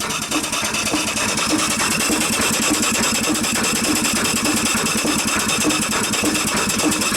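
A small engine runs loud and steady throughout, a constant rattling drone with a fast mechanical chatter.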